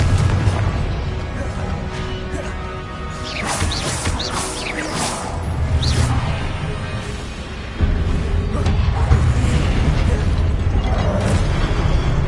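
Confringo fire spell blasts in the Hogwarts Legacy video game, a run of loud booming explosions and bursts layered over steady rumbling game sound, heavy and dense throughout.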